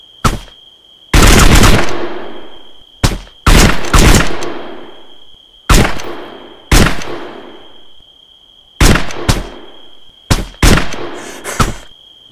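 Gunfire in the military video game Arma 3 during a cooperative mission: loud, close single shots and short bursts in separate clusters with pauses between them, over a steady high electronic tone.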